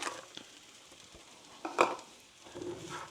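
Garden peas stirred into kedgeree in a pan: quiet, close scraping and shuffling of a spoon with a faint sizzle underneath and a louder scrape midway, no speech.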